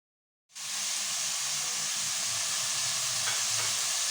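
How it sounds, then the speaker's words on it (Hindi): Dry spices (salt, red chilli powder, turmeric, coriander and cumin) roast in a pan for a dal, a loud steady sizzle that starts abruptly after half a second of silence. Faint stirring scrapes run beneath it, with no talking. "सारे मसाले ऐड करने के बाद हमें अच्छी तरह से हम भून लेंगे।"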